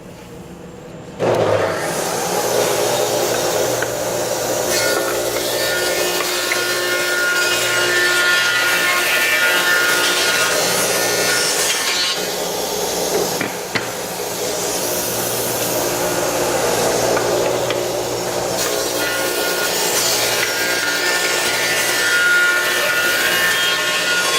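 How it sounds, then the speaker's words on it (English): An industrial wood planer steadily planing boards down to 13/16 inch at a trim mill, a loud, close, continuous machine roar that starts after a second of quiet and stays alone throughout. "Now we plane them down again to 13/16 just like we have a few times."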